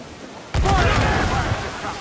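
Pirate ship cannons fire in Assassin's Creed IV Black Flag, a sudden loud boom that breaks into a rolling, crackling barrage of shots. The barrage sustains for over a second under shouted orders.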